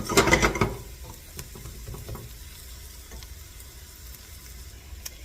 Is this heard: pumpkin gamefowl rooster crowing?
no